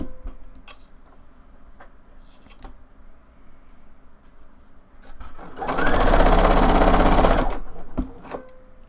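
A sewing machine stitches a blouse seam in one loud, fast burst of about two seconds, with scattered clicks and handling noises before and after it.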